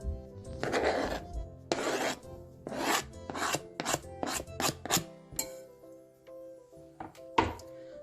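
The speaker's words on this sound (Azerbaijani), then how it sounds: "krab paklarımızı onu da eləcə kup halda doğrayırıq" A knife chops crab sticks into cubes on a cutting board for a crab salad, a series of close, dull thunks and scraping cuts in an uneven rhythm, quickening midway, with no talk.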